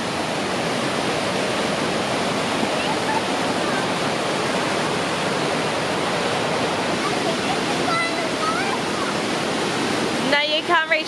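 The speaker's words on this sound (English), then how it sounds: "No, you can't reach the waterfall." A waterfall rushes in a dense, steady roar that fills the whole stretch. Faint voices talk beneath it near the end.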